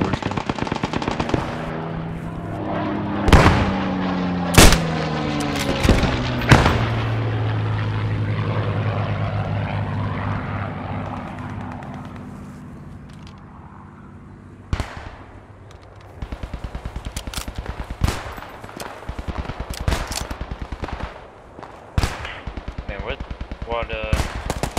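Rifle and machine gun fire in a war video game: sharp single shots and short bursts, some loud and close, others distant, over a steady droning aircraft engine that fades midway.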